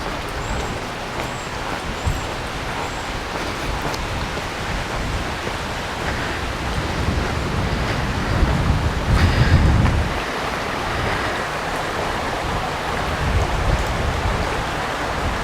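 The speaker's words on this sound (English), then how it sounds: "Nice little river." A small river flows near a bridge in the Black Mountains countryside, a steady broad rush of water that swells briefly midway, with no talking.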